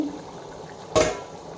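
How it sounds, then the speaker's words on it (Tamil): Steady low bubbling and hiss of water on the boil in a pot for mutton biryani rice, with one short louder gurgling surge partway through. No voices. "இப்போ தண்ணி நல்லா கொதிக்க ஆரம்பிச்சிடுச்சு."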